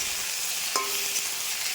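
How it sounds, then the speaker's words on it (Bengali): Steady frying hiss of cut okra in hot mustard oil, with a brief clink of a utensil partway through. "ভেন্ডিগুলোকে ভালো করে ধুয়ে বড় বড় কেটে সর্ষের তেলে ভেজে নিচ্ছি"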